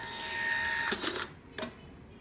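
An Xprinter Q260 thermal receipt printer runs a test page, a steady mechanical whir with a high tone lasting about a second, followed by a couple of brief clunks as the paper advances or cuts, close and fairly quiet.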